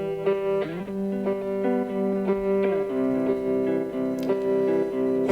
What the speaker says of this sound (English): The kind of heart of the song is this guitar loop.